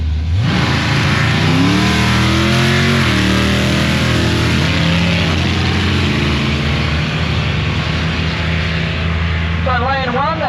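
A twin-turbo V10 Lamborghini Huracan warms its tyres at a drag race with a sustained, loud engine roar and rising and falling revs, the pitch climbing again near the end, while people talk faintly underneath.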